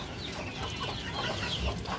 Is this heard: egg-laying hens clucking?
yes